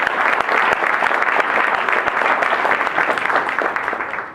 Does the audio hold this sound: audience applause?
yes